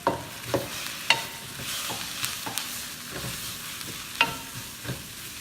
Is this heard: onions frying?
yes